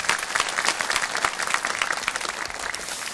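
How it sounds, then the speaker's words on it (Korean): A youth worship congregation in a church breaks into dense, sustained applause, many hands clapping close and loud with no pauses throughout. "다 같이 자축의 박수 드리도록 하겠습니다"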